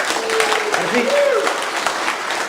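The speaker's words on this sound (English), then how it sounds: "give yourself a big round of applause" A seminar audience gives itself a round of applause, a steady, full clapping wash with a voice calling out over it partway through.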